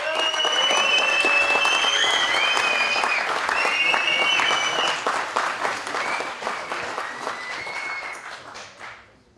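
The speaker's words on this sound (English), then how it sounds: "they deserve every bit of applause that you can muster" A large esports arena crowd applauds and cheers as team WRG walks on stage at a DotA2 Masters Cup grand final, loud and sustained at first, then thinning and fading toward the end, with whistles and shouts over dense clapping.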